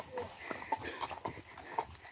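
Horse hooves clip-clopping at a walk on a hack, a steady uneven rhythm of hoof strikes close by, with people chatting over them.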